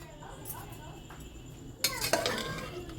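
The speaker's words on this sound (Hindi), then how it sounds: "अब हम इसको फिर से भूनेंगे।" Mutton keema and beans fry in a pan as a spoon stirs and clinks against the metal, quiet at first, then several louder scraping knocks near the end.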